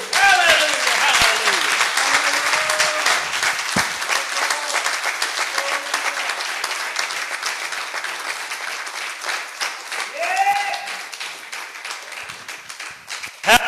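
A church congregation breaks into loud, sustained applause during a worship service, dense clapping that slowly thins out, with cheers and voices calling out over it.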